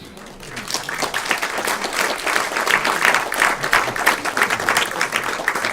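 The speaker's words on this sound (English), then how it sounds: "Without your applause, this would not have been an evening." An audience at a talent show applauds, a dense, sustained wash of clapping from many hands that swells slightly and continues throughout, with faint voices mixed in.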